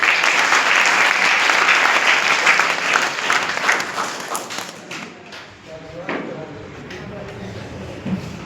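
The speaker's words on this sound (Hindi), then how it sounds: "एक बार तालियां बजाएं।" Applause from a meeting audience welcoming first-time guests, dense and loud for about five seconds, then thinning into scattered claps and thumps with voices underneath.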